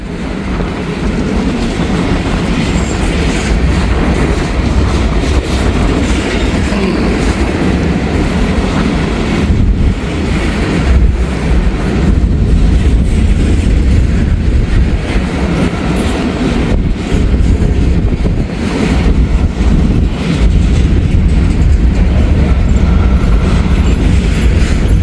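A freight train rolls steadily past at close range with a grain hopper car, fairly new and covered in graffiti, in the consist; loud continuous rumble and rhythmic wheel clatter fill the whole stretch without pause.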